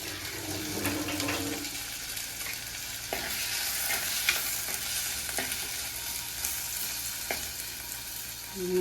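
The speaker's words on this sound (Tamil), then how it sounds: "அடுப்பை கூட்டிட்டு இப்போ அது வதங்கி கொண்டிருக்கட்டும்" An onion mixture sautés in a clay pot for a spicy Sri Lankan prawn curry, giving a steady, close sizzling hiss with occasional soft clicks of stirring throughout.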